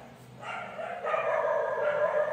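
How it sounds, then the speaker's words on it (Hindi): Several dogs bark and yip in the background outside a home recording space, a continuous, overlapping run of fairly loud barks with no pause. "अब जब मैं रिकॉर्डिंग कर रहा हूँ ना तो पीछे से ये भौंक रहे हैं।"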